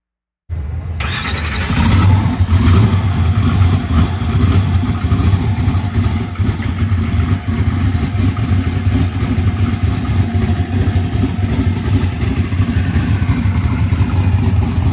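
A Big Block Chevy engine in a Foxbody fires up and rumbles loudly and close, then holds a deep, steady roar with bursts of revving throughout.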